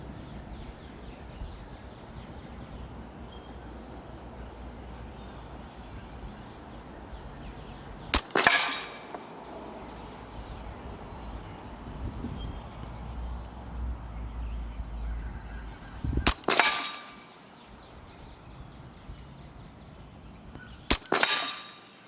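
A Hatsan Blitz .30 caliber PCP air rifle fires three sharp, loud cracks spaced several seconds apart, each followed by a short ringing decay over a quiet outdoor background.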